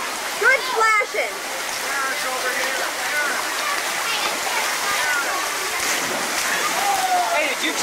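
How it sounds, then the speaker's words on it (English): Boys splashing in water outdoors, a continuous rushing, spattering wash of churned water with brief bursts of children's voices and shouts near the start and end. "Good splashing, boys."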